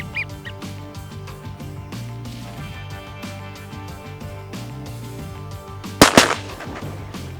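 A shotgun fires once at widgeon ducks in a duck hunt, a sharp loud blast with a quick second report, breaking through a steady bed of low background noise and faint distant duck calls.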